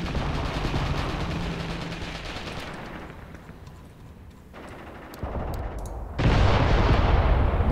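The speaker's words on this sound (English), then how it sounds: "Mortar salvo is good." Mortar salvo in the Graviteam Tactics war game: dense, rumbling gunfire-like blasts that thin out, then a loud, close, broadband impact near the end, with no voices.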